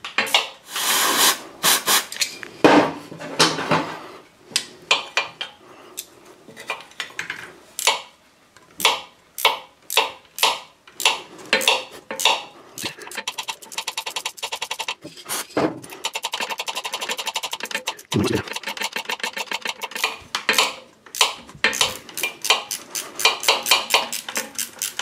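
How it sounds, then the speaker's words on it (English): Hand ratchet working a stubborn screw out of a Suzuki Hayabusa oil cooler bracket, a long run of close, irregular clicking strokes and metallic scraping, some fast and repeated, others spaced out. "Try and ratchet that out again."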